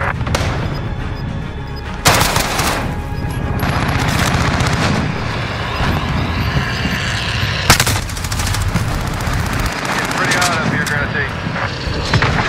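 Sustained gunfire from the video game Modern Warfare: dense automatic bursts and sharp loud cracks run throughout, with heavy booms and aircraft-like roar layered underneath, a voice briefly speaking over the din.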